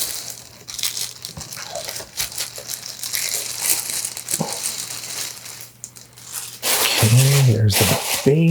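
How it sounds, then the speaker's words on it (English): A collectible statue is unwrapped from its plastic packaging with loud, close crinkling and crumpling that runs in bursts throughout, growing denser toward the end, with no talking. "All right, so now we can unwrap it."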